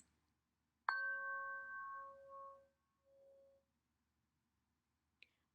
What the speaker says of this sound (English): I'll also be playing a chime that sounds like this.